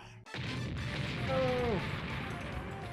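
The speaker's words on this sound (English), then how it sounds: "All port cannons, prepare to fire." Port cannons on a ship boom in MegaMan Legends, a heavy crash and rumbling barrage that keeps going for several seconds, with a voice speaking over it.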